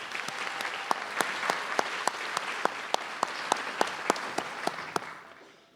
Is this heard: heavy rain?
no